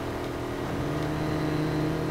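Chevrolet Camaro SS V8 in Need for Speed Heat as the throttle eases off, a steady low engine drone and whir holding at a near-constant level throughout.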